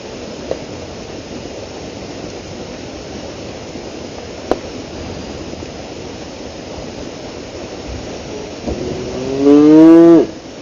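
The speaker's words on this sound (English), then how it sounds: "Never had such a giant audience of cattle." A cow moos loudly and close by near the end, a single long low call rising out of steady outdoor background noise, with small knocks earlier; cattle gathered around an outdoor camp where fat wood is being shaved.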